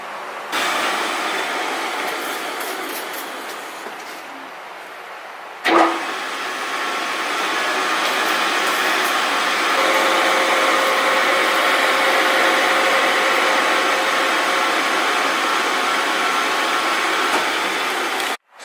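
A power cutting tool slicing off a metal bracket piece for a tucked radiator install, a steady loud abrasive roar with a sharp restart partway through, then a long continuous cut ending abruptly.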